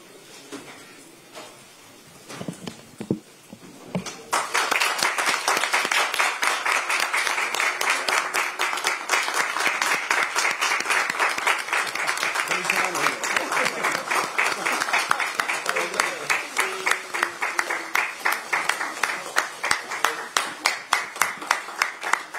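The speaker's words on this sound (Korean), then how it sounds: "모두 자리에서 일어나 큰 박수로 맞이해 주시기 바랍니다" A standing audience gives sustained, dense applause as presidential candidate Lee Jae-myung enters a party meeting hall, bursting in after a few quiet seconds and continuing steadily and loudly to the end, with some voices mixed in.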